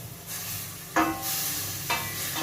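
Fat melting in a frying pan for Turkish meat kavurma gives a steady close sizzle and hiss, with two sharper bursts of crackle where the pan is stirred.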